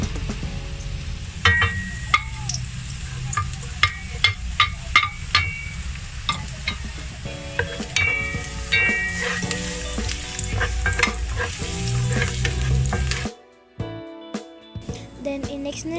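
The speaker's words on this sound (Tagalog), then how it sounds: "Igisa na natin sa sibuyas at bawang." Onion and garlic sauté in a pan for beef caldereta, a bright steady sizzle broken by repeated clacks of a utensil stirring, before the frying cuts out abruptly near the end.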